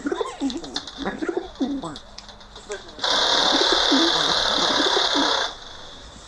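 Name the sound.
pigeons cooing while eating popcorn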